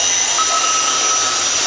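Daewoo Puma 200C CNC turning center spindle spinning up: a steady, loud whine with a high tonal line that rises slightly, continuous throughout with no talk.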